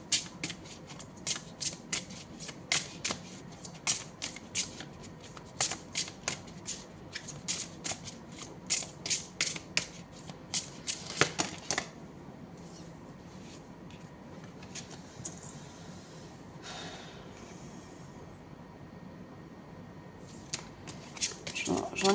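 Tarot cards being shuffled in a fortune-reading session, rapid crisp riffles and flicks repeating for about twelve seconds near and clear, then sparser card handling and a few later flicks.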